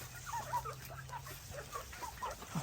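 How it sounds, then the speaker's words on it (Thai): Chickens wandering around the yard of a rural home, giving a series of soft, short clucks and gobbling calls at close to mid range over faint background noise, with no one talking. "ไก่เดินตามไก่เดินตามนะครับ"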